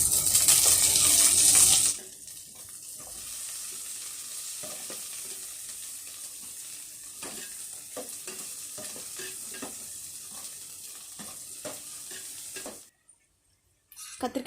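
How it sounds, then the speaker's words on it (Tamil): Garlic, onion and curry leaves fry in a pan for a brinjal kara kulambu, opening with a loud hiss of oil, then a steady soft sizzle with scattered stirring scrapes before it cuts off. "பூண்டு வெங்காயம் நல்லா வதக்கிக்கலாம். கறிவேப்பிலை சேர்த்துக்கலாம்."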